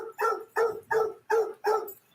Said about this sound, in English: That's Blue Boy barking up a storm.